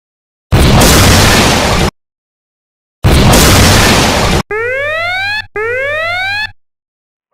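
A cartoonish explosion effect for the earth being destroyed: two loud, harsh noise bursts separated by silence, followed by two rising, whooping synthetic tones.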